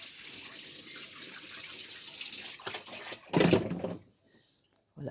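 Water runs steadily from a tap, then pours more heavily for a moment before cutting off into near silence.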